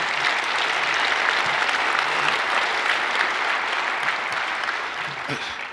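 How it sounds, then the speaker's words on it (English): An audience at a general session gives a sustained round of applause, dense steady clapping that holds strong throughout and tapers slightly near the end. "Let's give them a round of applause."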